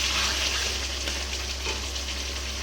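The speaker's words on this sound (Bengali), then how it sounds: "এখন মাটনটা কষানো হচ্ছে।" Mutton braising and frying in a pan makes a steady, moderate sizzle over a constant low hum, with soft bubbling and no voices.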